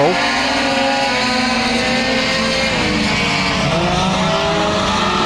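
Mini stock race cars roaring around a dirt oval track at a heat race, loud continuous engine drone from several cars with shifting pitch as they drift through the turn, with an announcer's commentary over the top.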